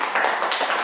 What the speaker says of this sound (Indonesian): Ya, kasih tepuk tangan untuk kelompok 1.